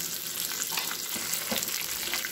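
Hot curry leaf tempering hitting cooked Malabar spinach dal, Andhra style, giving a soft, continuous frying hiss with faint crackles, fairly quiet and unbroken for a couple of seconds.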